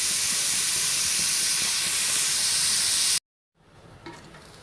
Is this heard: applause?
no